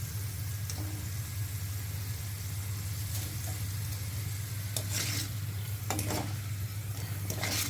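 Bitter gourd finger chips deep frying in hot oil, a steady close sizzle with occasional stirring clinks of a utensil against the pan, no voices.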